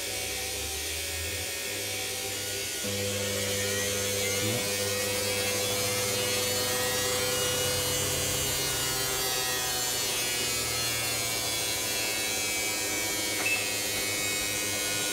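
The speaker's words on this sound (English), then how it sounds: "Okay, so it's anti-clockwise slow turn. This is a low speed spin." A Westinghouse Mastermind LF700B washing machine under repair turns anti-clockwise on a low speed spin, a steady faint motor hum with a light mechanical whir and a few soft knocks, alone without voices.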